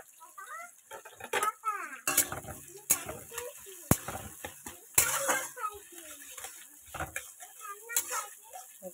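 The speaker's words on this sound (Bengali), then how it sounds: "জিরে তেজপাতা ভাজা হয়ে গেছে, দিয়ে দিচ্ছি পেঁয়াজ কুচি বেশ খানিকটা।" Chopped onion goes into oil with fried cumin and bay leaves, bringing clattering utensil knocks and scrapes against the pan over a faint sizzle, along with a few scattered vocal sounds.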